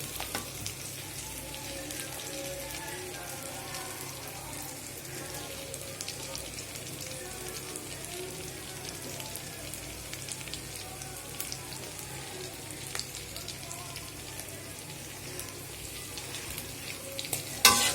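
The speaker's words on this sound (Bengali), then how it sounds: "মাছটা একটু ভেজে নিতে হবে তেলে" Fish frying in oil in a pan, a continuous dense sizzle that holds steady and moderately loud throughout, with faint occasional crackles.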